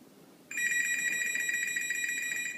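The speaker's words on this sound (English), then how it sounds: "get the phone. Get the phone." A telephone starts ringing abruptly after a quiet moment, a continuous bright electronic bell tone that stays loud and steady to the end, with no voices.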